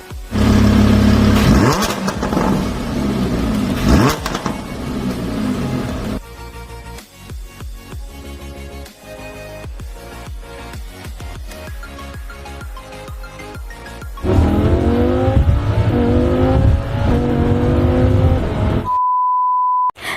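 A used Lamborghini Huracan LP610-4 supercar engine revs loudly and close, rising in pitch, dropping back and surging again, followed by a brief electronic beep.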